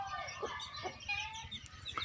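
Chicks peeping and softly clucking while walking about in the sun on a Punjabi village farm, a steady chatter of small calls close by, with no talking.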